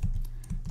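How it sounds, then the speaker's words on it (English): Quick keystrokes on a computer keyboard, a few soft close clicks in a short burst, quiet and alone. "I'm going to type two kind of @ signs"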